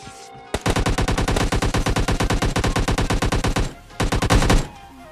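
Rapid automatic gunfire from the PUBG Lite game, a loud sustained burst of evenly spaced shots lasting about three seconds, a short pause, then another brief burst, with no voice over it.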